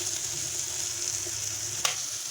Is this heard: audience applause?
no